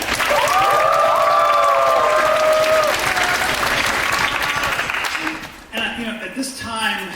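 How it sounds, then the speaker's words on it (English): Loud applause from a crowd, sustained clapping with some cheering, then fading out as a voice begins speaking near the end. "So a round of applause for that."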